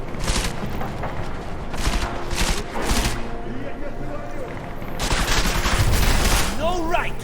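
Bursts of gunfire from the Deus Ex: Mankind Divided video game, several rapid volleys with gaps between them over game ambience, with a person talking at times.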